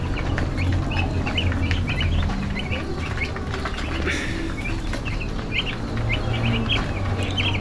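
Young broiler chickens clucking and rustling on a farm on a winter night, a dense, steady flock chatter with scattered close clucks and wing flutters, no talking.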